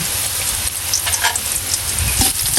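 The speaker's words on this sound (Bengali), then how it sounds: "মাছ ভাজা তারপরে লঙ্কা ভাজা আর এদিকে আছে বেগুন ভাজা" Fish frying in a pan, a dense crackling sizzle of hot oil that holds steady and close, with a few sharper spits and pops breaking through.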